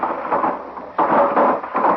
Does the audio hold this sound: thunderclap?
yes